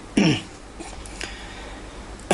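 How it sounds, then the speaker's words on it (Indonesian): A child coughs sharply at close range, then a quieter pause with faint soft noises, and another abrupt cough right at the end. "anak saya juga udah batuk-batuk tadi"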